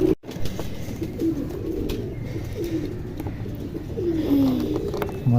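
Pigeons coo in low, throaty, repeated phrases that run steadily through the whole stretch at a moderate, close level, with no talk over them.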